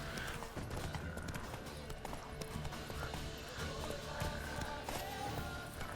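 Geralt's horse Roach trots through swampland in The Witcher 3, a steady clip-clop of hooves under a busy wash of game ambience and music, fairly quiet and continuous throughout.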